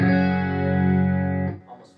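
A single sustained electric guitar chord rings out with a clean, full tone through an Atomic Reactor FR wedge, then is cut off and fades quickly.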